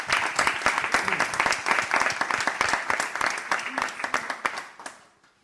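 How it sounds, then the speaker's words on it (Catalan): An audience at a rural women artists' presentation in Conca de Barberà breaks into steady applause for the artists called onstage, many hands clapping loudly for a few seconds before fading out. "Si us plau, podeu pujar a l'escenari. Un aplaudiment."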